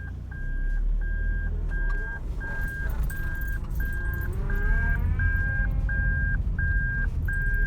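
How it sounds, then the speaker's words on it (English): Reversing warning beeps from a 7th-generation Toyota Celica GT or GTS (2000-2005), sounding like a truck: a steady run of about eleven evenly spaced electronic tones over a low engine rumble, loud and close. "it would be the reversing sound. It sounds like a truck."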